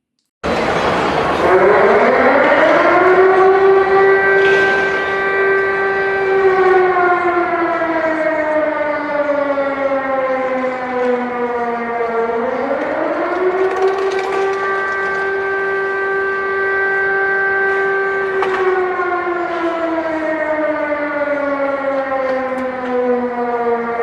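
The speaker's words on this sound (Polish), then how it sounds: "w wielu miastach zawyły syreny" Civil defense sirens wail across Chinese cities in remembrance of the Nanking Massacre, loud and sustained, each slowly rising to a held pitch and then gliding down before rising again, with a second siren layered faintly behind.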